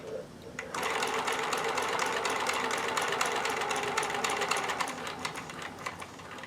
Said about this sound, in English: you press the button off and then you can sew